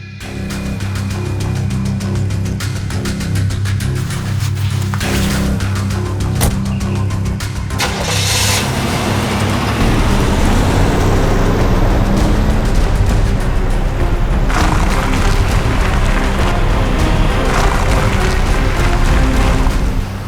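A car engine cranks and catches, then settles into a steady, loud running drone as the car pulls away and keeps driving, with a dense low rumble filling the rest of the clip.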